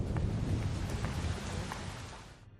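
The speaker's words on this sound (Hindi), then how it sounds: "आ जाओ, बारिश आने वाली है, अंदर चलते हैं।" Steady rain with a low rumble of thunder fills a dramatic Hindi film scene, a dense broadband wash that stays loud and then slowly fades toward the end, with no voices.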